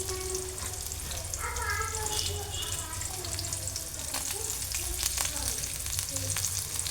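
Onions, green chilies and curry leaves sizzle in hot oil for a tempering, a steady crackling fry with occasional stirring, close and continuous throughout.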